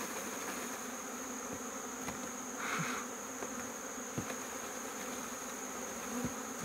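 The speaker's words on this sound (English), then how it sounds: "you can see that there are bees flying out of here" Honeybees fly out of a hive during varroa mite checks, making a faint, steady insect buzz with a few brief louder passes nearby.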